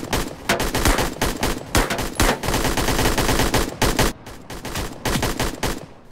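Rapid bursts of AK-74F automatic rifle fire in the Roblox game BRM5, loud, close and near-continuous with short pauses between strings of shots.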